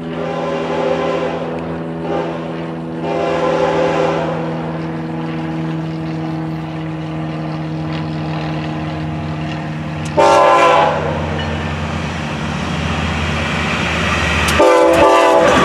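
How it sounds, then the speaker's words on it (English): A Florida East Coast Railway train, FEC 103, rumbles steadily past at close range, its horn sounding in long sustained blasts, with louder bursts of clatter near the end. "Late running train."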